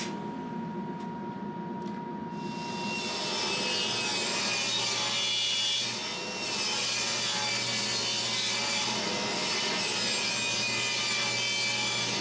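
Power saw cutting wood while starved for power, a continuous loud grinding and rasping cut that holds steady for several seconds with a slight dip partway through, close by and with no talk.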